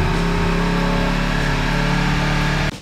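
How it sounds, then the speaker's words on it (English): A Kawasaki Ninja 300 motorcycle engine runs steadily after a coolant change during maintenance, giving a loud, continuous mid-pitched drone that holds even for almost three seconds before dropping off abruptly at the end, with no speech. "All right, so we ran the bike for a little bit."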